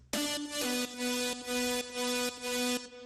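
Layered synth leads with chords sustain in steady pulsing blocks, bright and buzzy with a held chordal feel, repeating several times without talking.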